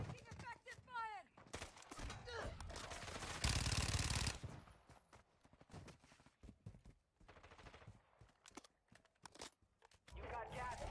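Bursts of gunfire in a tactical shooter video game crackle amid loud broadband blasts, with a dense sustained burst in the middle, while someone talks over the action.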